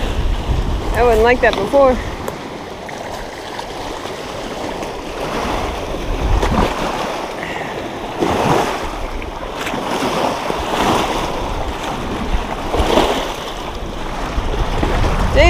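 Strong wind sweeps across a lake during a fishing outing, roaring and buffeting the microphone steadily throughout, with someone speaking briefly near the start.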